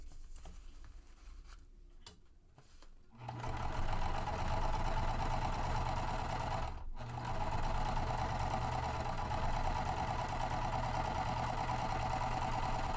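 Sewing machine stitching a tote bag: after a few quiet handling taps, a steady, fast mechanical whir and patter runs on, briefly pausing once, close and continuous with no talk.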